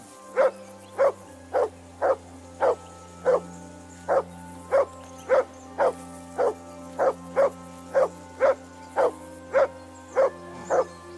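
A dog in the medieval game Kingdom Come: Deliverance II barks in a steady, evenly spaced rhythm, about fifteen sharp barks over a low, constant ambient hum.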